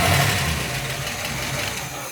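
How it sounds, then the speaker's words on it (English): An old yacht's twin big-block engines idle steadily after distributor timing adjustment, a low, even rumble close by and fairly quiet, with no talking. "Look at that idle now, huh? Oh, much better on the throttle too."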